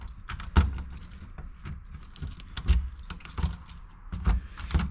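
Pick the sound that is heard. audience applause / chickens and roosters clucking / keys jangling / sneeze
keys jangling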